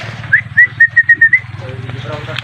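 A blue bar racing pigeon arrives at its loft, and a run of six short, clear whistled notes rises over a steady low engine-like hum. Faint background sounds follow.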